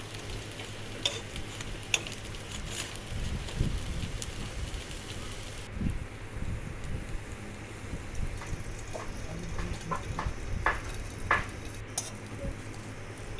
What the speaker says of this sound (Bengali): এরকম তেল ছড়িয়ে ছড়িয়ে হালকা তেলে ভাজবো